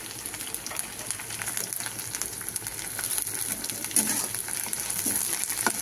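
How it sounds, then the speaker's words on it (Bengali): Chopped green chillies and curry leaves crackle and sputter in hot oil, a dense, continuous close sizzle with scattered pops that grows slightly busier toward the end, no voices. "এইভাবে আমি সবগুলো ভেজে নেব আস্তে আস্তে।"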